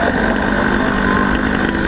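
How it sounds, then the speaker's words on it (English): A 100cc iron-sleeve motorized bicycle engine with an aftermarket exhaust runs steadily in a loud, buzzing two-stroke drone, close up, with no talk over it. "I really love the sound of this exhaust and that little bit of pop it has"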